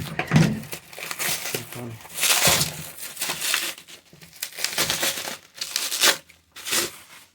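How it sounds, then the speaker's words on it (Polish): Plastic foil crinkles and tears off a packaged DC comic book during an unboxing, a close, busy run of crackling and ripping bursts lasting several seconds with no talk. "Za chwilę go odfoliujemy druga paka, konkretniejsza."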